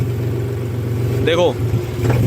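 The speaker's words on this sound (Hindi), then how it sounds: "देखो आरपीएम भी ड्रॉप हो रहे हैं जब वो हवा बंद कर रहे हैं आगे से।" A John Deere tractor engine running steadily, with its revs sagging as the intake is choked off at the dry-type air filter; a constant mid-pitched engine hum with a brief whine partway through.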